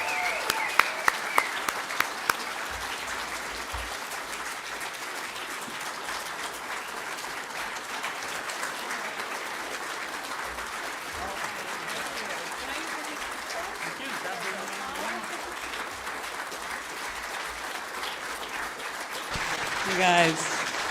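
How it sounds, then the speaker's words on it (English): An audience at a summit in Saskatoon applauds a speaker with sustained clapping that holds steady for about twenty seconds, dense and moderately close, with a few louder claps at the start and voices rising near the end. "Let's give her a round of applause."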